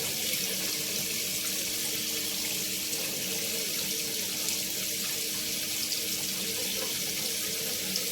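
Water pouring steadily into the drum of a Polar washing machine for a boiling-temperature test, a constant loud rushing hiss from a tap that runs unbroken throughout, with no voices.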